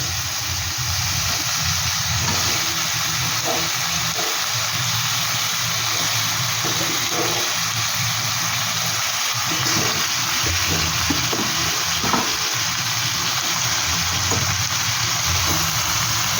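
Washed, drained chicken pieces frying in a hot pan for fennel chicken, a continuous dense sizzle and bubbling crackle running steadily throughout.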